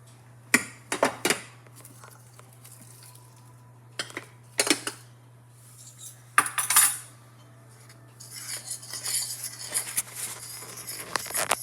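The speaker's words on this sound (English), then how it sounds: "And now stir that all together." Spoon stirring blueberry muffin batter in a mixing bowl, with a string of sharp clinks and scrapes against the bowl at close range, then a stretch of softer, steady scraping toward the end.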